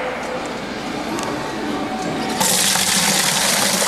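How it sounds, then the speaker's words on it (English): Water from a Ruwac NA35-HD immersion separation vacuum pours out in a loud, steady gush that suddenly grows stronger and brighter partway through. "Now we're going to empty the water inside of the machine,"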